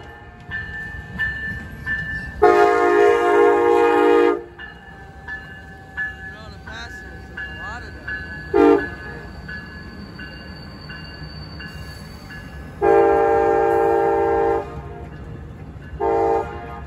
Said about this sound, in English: There's Amtrak P371 arriving Holland Station.